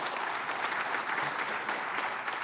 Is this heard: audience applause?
yes